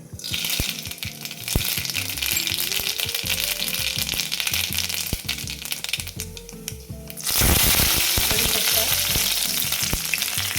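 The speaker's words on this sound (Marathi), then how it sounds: "तेल छान तापलंय आपण आता घालतोय फोडणीसाठी मोहरी" Mustard seeds are added to hot oil for tempering a raw-tomato dal. A loud, steady sizzle carries crisp popping crackles and swells into a brighter, fiercer hiss partway through.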